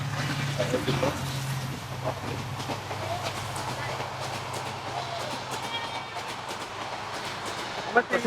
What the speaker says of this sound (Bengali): আসলে একটা ট্রেন যাচ্ছে হাই ট্রেন যাচ্ছে